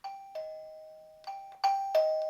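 A J10 Wi-Fi video doorbell receiver plays its ringtone at the highest of four volume levels: a series of clear electronic ding-dong chime tones in an irregular rhythm, near and alone, each note ringing on and slowly fading.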